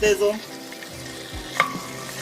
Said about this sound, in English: Oh, that sizzle. Oh, that sizzle. So we sizzling.